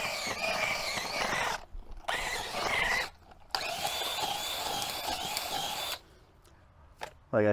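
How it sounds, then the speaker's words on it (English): A high-pitched power drill whines in three bursts with brief pauses between, close and loud, boring a hole for planting tomatoes, then a quieter hum and a short final spin. "you might want a little bit bigger drill than this, but got the hole done"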